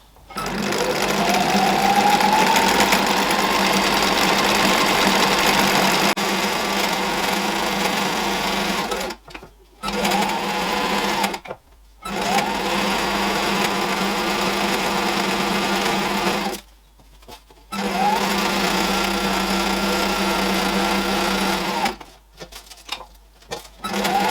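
Sewing machine top stitching a golf trolley caddy bag: a loud, close, continuous mechanical whir in long runs, broken by short pauses of near silence between seams, with no talking.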